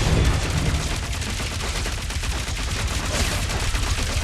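Sustained gunfire fills the scene as a dragon is shot in the Guardians of the Galaxy video game on PS5, a dense loud barrage of rapid shots with explosive impacts running continuously throughout.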